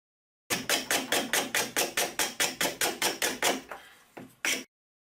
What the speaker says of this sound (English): we apply glue and nail it down